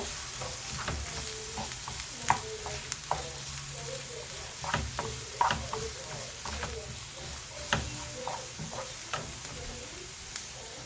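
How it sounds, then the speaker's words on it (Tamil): Onions softening in oil in a pan for egg kothu parotta, a steady sizzle with soft stirring scrapes and small ticks over the length, close and moderately quiet. "வெங்காயம் நல்லா வதங்கட்டும்"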